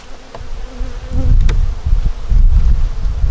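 Bees buzz around a hive up close, with loud, wavering drones rising and falling as individual insects pass near, over wind noise.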